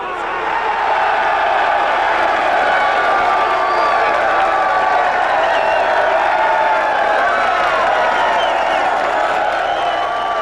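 A large crowd cheers and whoops at a ballpark celebration of a famous baseball game and home run, a dense, continuous roar with scattered clapping that stays loud and steady throughout.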